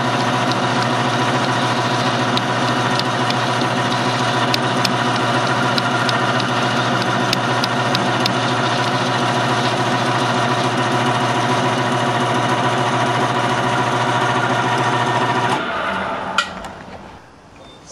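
Metal lathe taking a cleanup cut on a Honda PA50 moped part, a loud, steady motor hum with a whining mechanical drone that runs unbroken for about fifteen seconds, then winds down and stops.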